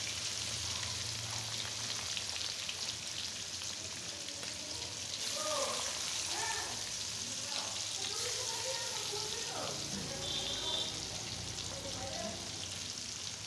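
Hilsa fish frying in a pan gives a continuous, soft hissing sizzle with small crackles, steady throughout.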